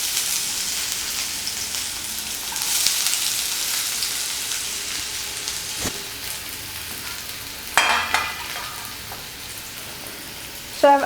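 Chopped onion frying in ghee in a pan, a steady broadband sizzle throughout with a few brief louder stirring or crackling bursts near the end, no talking.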